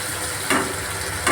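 Ground spices with mustard and poppy seed paste frying and being stirred in a pan for a Bengali doi chingri prawn curry, a steady close sizzle with two brief louder scraping bursts of stirring.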